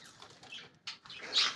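Pigeons kept in a home breeding loft give soft coos and brief wing flutters, faint and close in a quiet room, with a louder burst of movement near the end.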